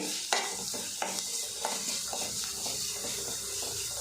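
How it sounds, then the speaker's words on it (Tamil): Grated radish sizzles in a hot pan while a spatula stirs and scrapes through it, a steady close frying hiss broken by soft irregular scrapes and taps. "முள்ளங்கி துருவில் ஆட் சேர்த்துருங்க செஞ்சுட்டு நல்லா மிக்ஸ் பண்ணிவிட்டு"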